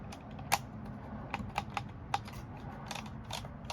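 A rotary knob on a factory Mopar Jeep Wrangler/Gladiator brake controller turns, giving a faint, irregular series of small sharp clicks over quiet background.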